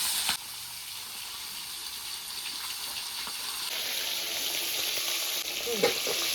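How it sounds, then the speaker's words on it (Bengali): Koi fish seasoned with salt and turmeric fry in hot oil, giving a steady, fairly quiet hiss that grows brighter partway through as the frying intensifies, with a small clatter near the end. "তেলটা গরম হয়ে গেছে এবার মাছগুলো এক এক করে ভাজবো"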